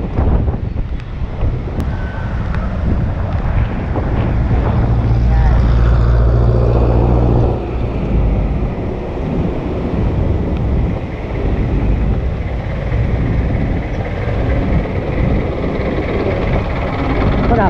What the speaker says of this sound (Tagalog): Malakas na yung hangin, pero walang malakas na ulan.